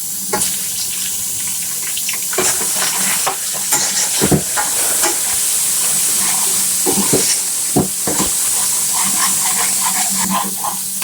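Garlic-ginger paste frying with onions in a pan, a loud continuous sizzle running throughout with repeated scraping stirs and clinks of the utensil, no voices.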